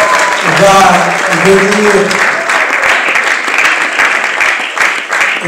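An audience at an awards ceremony claps loudly and steadily while a voice talks over the applause.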